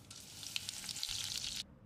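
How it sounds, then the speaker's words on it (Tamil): Mustard seeds crackle and sizzle in hot oil, a bright, rapid spattering of pops close up that stops abruptly near the end. "கடுகு பொரிஞ்சிருச்சு"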